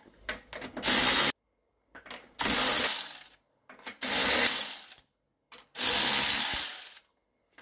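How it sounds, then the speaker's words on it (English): A jack lifts a Jaguar F-Type car in four loud, close bursts of ratcheting clicks, each about a second long and separated by brief silent pauses. "Oh, jacking it up."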